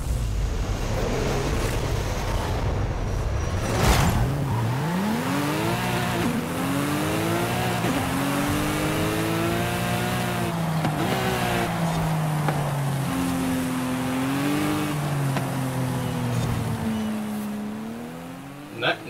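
Race car engines at the start of a racing video game driven on a Logitech G920 wheel, a continuous loud roar with rising and falling revs and gear changes, a sharp thud partway through, with a voice talking underneath.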